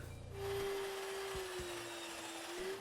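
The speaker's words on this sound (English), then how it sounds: "The first thing that I did was to clean up both ends over at the miter saw" A miter saw whines steadily at a high pitch while trimming the ends of wood, with a couple of cutting thumps through the middle, the motor spinning down near the end.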